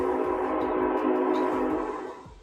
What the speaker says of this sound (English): Even the train is putting an exclamation point on that.